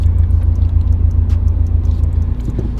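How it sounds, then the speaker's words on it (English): A car approaching on the road, heard as a steady low rumble from inside a stopped Ford Focus RS, with no talking. "So there's a car coming."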